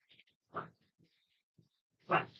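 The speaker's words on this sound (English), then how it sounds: "She's barking in her bed, laying." A dog lying in her bed indoors gives two short muffled barks, then a louder third one, with faint small whines and yips between, close and otherwise quiet.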